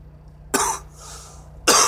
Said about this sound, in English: I myself have a little bit of a cough